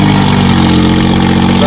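A New Holland tractor engine runs at a set throttle, a loud, steady mid-to-low hum close by for a brief moment.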